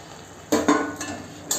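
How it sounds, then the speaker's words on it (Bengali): Fried prawns stirred into a simmering masala with a little added water in a pan, giving a couple of clear scraping, clattering stirs over a soft background hiss. "দিয়ে সুন্দর করে মশলার সঙ্গে আমি কষিয়ে নেব"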